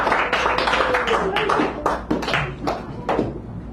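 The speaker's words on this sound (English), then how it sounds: "Can we hear some hand claps for Jim Fitch?" An audience claps by hand at a San Francisco café poetry hour, giving a loose, uneven patter of claps with voices talking over it.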